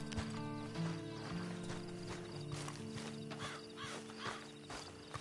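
Horse hooves clip-clop in Red Dead Online, a steady clatter of steps with a whinny or neigh mixed in, heard over a busy game soundscape with music and ambient noise.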